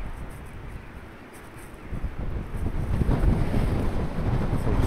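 Wind gusting across an exposed seaside shore with the tide going out, a steady broadband rush that swells louder and buffets the microphone through the second half, with no talk.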